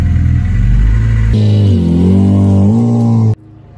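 A car engine idles with a loud, deep rumble, then revs up into a rising, wavering whine. The sound cuts off abruptly near the end, leaving near silence.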